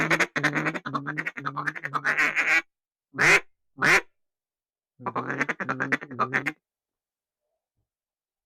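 Ducks quack in a flooded timber hunting spot, loud, close bursts of rapid quacking that come in runs of calls separated by short silences, with a couple of sharper isolated calls in between.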